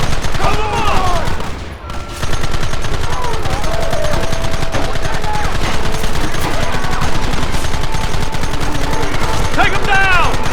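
Rapid bursts of gunfire ring out in a Red Dead Redemption shootout on Xbox One X, dense overlapping shots loud and close, with a brief lull near the start and shouted voices mixed in.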